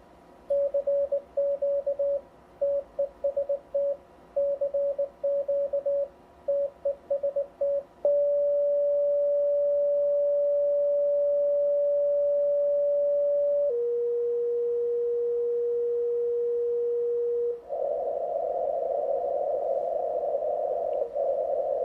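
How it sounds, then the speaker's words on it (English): An electronic interference tone on an ICOM HF transceiver beeps in rapid, irregular pulses, then holds steady, drops to a slightly lower pitch, and finally turns into a rougher, buzzier hum. "you'll hear this interference come in"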